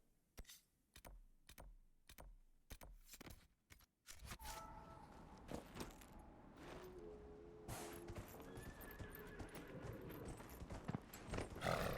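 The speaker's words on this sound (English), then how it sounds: "Oh good, the horse can jump." Rapid rhythmic hoofbeats of a galloping horse in Dragon Age: Inquisition, sharp and regular at first, then continuing under a busy wash of game ambience and effects.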